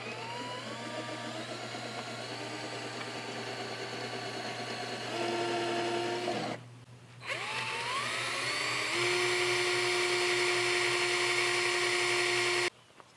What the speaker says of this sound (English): Okay, all right, well, I'll drill them out then.